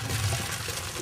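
Water pours from a pot during pasta cooking, a brief liquid gush and splash of about a second, with no talk.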